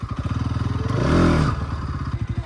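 A motorcycle ridden for stunts putters with a rhythmic, thumping idle-like pulse, swelling into a louder rev midway before settling back to the chugging beat, close by with no talk.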